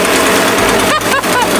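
An Echo PB-580T backpack leaf blower idling, its engine giving a loud, steady, buzzing drone heard up close, with a couple of brief dips in the sound.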